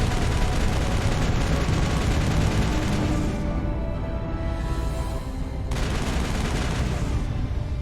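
Constant heavy gunfire rattles on without a break as turrets are shot down in the video game Mass Effect, a dense and loud roar that barely eases partway through.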